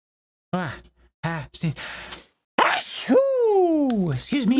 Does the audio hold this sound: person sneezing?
yes